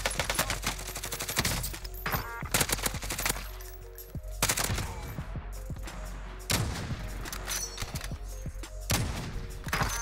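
Magnum sniper rifle shots in Call of Duty Warzone, several loud sharp cracks spaced a second or two apart, each with a booming tail, mixed with other distant gunfire and battle noise.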